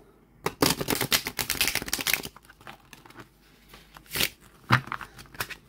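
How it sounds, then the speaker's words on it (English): Tarot cards are riffle shuffled, with a rapid burst of fluttering snaps followed by a few softer taps and clicks as the deck is squared up. "Whether or not I can riffle shuffle."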